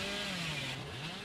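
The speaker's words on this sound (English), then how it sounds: "Straight into the chainsaw again." Hillbilly's chainsaw in the video game Dead by Daylight, revving hard. A continuous, loud buzzing whine runs throughout, with its pitch shifting slightly, and no voices over it.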